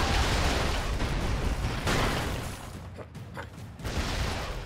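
Dense, loud bursts of explosions and gunfire from the video game Broforce roll on almost without a break, dipping briefly near the end before another blast hits.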